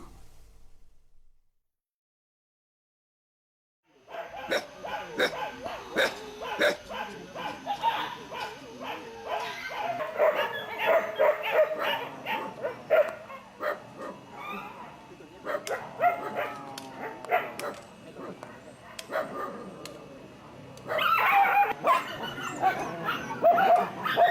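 Several dogs in Thailand barking, yipping and whimpering in an excited overlapping chorus after a brief silence, close and continuous with sharp repeated yelps, and some human voices mixed in.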